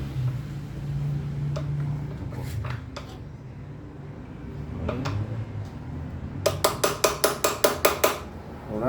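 Socket wrench working a through-bolt on a Rayo 150 dynamo axle, scattered metallic clicks and taps followed by a quick run of about ten sharp ratcheting clicks near the end.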